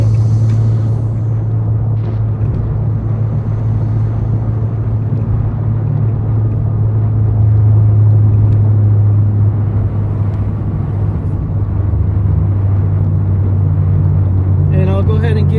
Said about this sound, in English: It's an amazing sound coming from that intake.